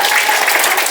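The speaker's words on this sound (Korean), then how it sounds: "잘했다고 생각해주면 박수 치시고." A brief burst of audience clapping at a Korean patriotic song contest, loud and dense for about a second after a contestant's performance, with no talk over it.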